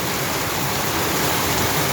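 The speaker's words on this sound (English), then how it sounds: "It's raining right now in Nyahururu." Heavy rain pouring down on Nyahururu town, a dense, loud, unbroken hiss filling the whole stretch with no voices over it.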